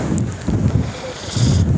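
Strong wind buffets the microphone on a hilltop tea plantation in Munnar, a steady rough roar with low gusty swells rising and falling throughout.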